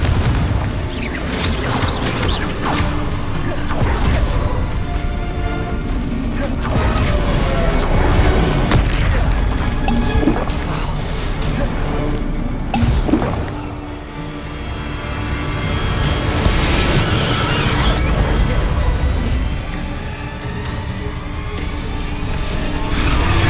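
Blasting curse explosions from Hogwarts Legacy gameplay, booming and crashing repeatedly over a dense, continuous layer of game music and combat effects, loud throughout with no talking.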